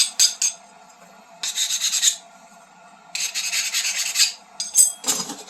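A hand file rasps along the edges of stacked steel layers for a sanmai blade, removing burrs in short bursts of gritty strokes with brief pauses between them, close and fairly loud.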